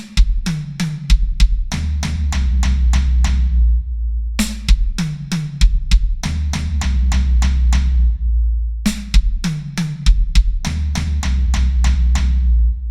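A drum kit plays a repeating fill of fast linear triplets passed between sticks and kick, each phrase closing with two punchy kick-drum hits; the pattern cycles three times with steady, loud, close-miked strokes and no talking.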